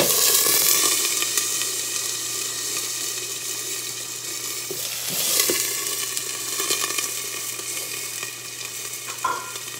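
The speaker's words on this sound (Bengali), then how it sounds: "আলুটা ভেজে নেব এবার।" Potatoes frying in hot oil with cumin seeds in a pan, a steady close sizzle running throughout with occasional stirring scrapes and clatter, no voices.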